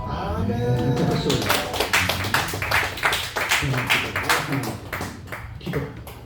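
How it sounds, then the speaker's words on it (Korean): A church congregation claps during a worship service, dense rapid hand claps that swell loudly and then thin out near the end, with some voices mixed in. "박수"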